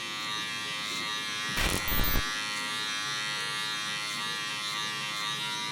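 Electric hair clippers with a number two guard buzz steadily while cutting hair for a taper, with one brief louder burst partway through.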